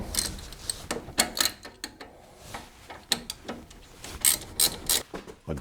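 A ratchet wrench tightens the front brake caliper bolts on a Chevy truck during a suspension installation, giving rapid bursts of close, loud clicking in irregular runs with brief pauses, and no talking.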